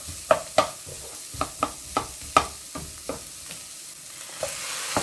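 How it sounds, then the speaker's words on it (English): Onions sauté in a pan for shepherd's pie with creamy baked potato and minced beef, a soft steady sizzle broken by about a dozen sharp clicks of a utensil stirring against the pan. "Next, the onions. Saute until the aroma comes out."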